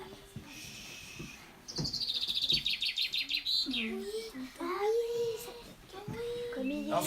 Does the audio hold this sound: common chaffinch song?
yes